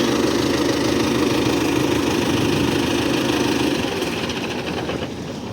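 A tractor's diesel engine runs steadily and loudly up close before setting off on a thousand-kilometre road trip, a continuous rumbling drone that eases slightly in the last second.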